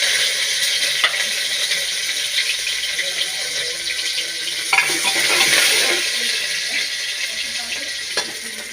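Onions and chillies frying in hot Fortune oil give a bright, continuous sizzle, with a few louder bursts and scraping stirs along the way.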